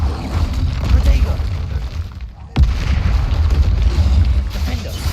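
A Bombarda explosion spell going off in Hogwarts Legacy, one sharp close boom midway that breaks through a dense, rumbling game soundscape with a low roar continuing underneath.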